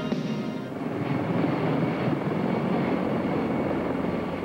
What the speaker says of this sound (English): prepare to be dropped by a CH-53 helicopter